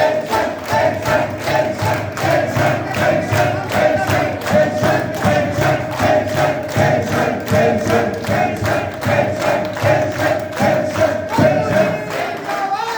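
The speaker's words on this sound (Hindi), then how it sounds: "एक साथ ताली बजा के पेंशन पेंशन पेंशन" Crowd at a pension-restoration (OPS) rally clapping in unison and chanting a slogan, steady rhythmic claps about twice per second with loud massed voices throughout.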